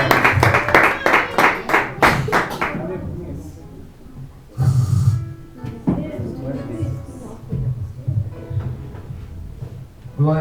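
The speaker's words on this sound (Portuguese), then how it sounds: "As palmas louvam o Senhor." A church congregation clapping in praise, a quick rhythmic run of loud claps at the start that gives way to livelier mixed crowd noise and voices, close and full in a reverberant worship hall.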